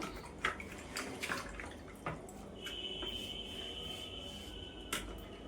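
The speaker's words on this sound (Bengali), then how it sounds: "শিলটা ভালো করে ধুয়ে নিলাম।" A stone grinding slab being washed with water, close splashing and trickling with scattered drips and light knocks, plus a thin steady tone partway through.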